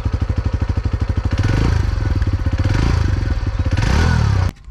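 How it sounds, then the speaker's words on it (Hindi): A TVS Star City Plus motorcycle with an Ecothrust exhaust idles close by with a rapid, even putter, then revs up briefly and settles back before cutting off abruptly at the end. "तो फिलहाल मैं आप लोगों को एग्जॉस्ट नोट भी सुना देता हूँ।"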